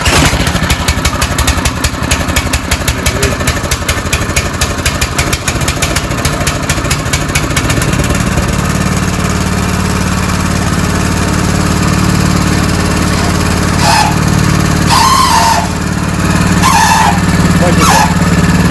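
Light walk-behind tractor fitted with modified low gears runs at a steady close, loud, clattering idle, with a brief harsher stretch early and a few short metallic squeaks and rattles near the end.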